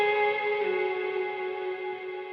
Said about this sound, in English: sometimes I want a guitar solo to be like really floaty